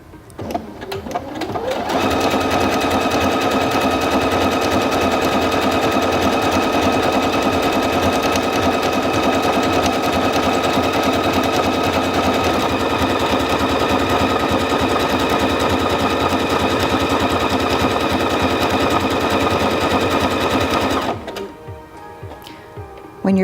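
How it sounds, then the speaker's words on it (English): Singer Featherweight C240 sewing machine running a decorative stitch, a loud, fast, even mechanical whir held for about twenty seconds before stopping, close and alone. "And now we're ready to sew stitch number 27."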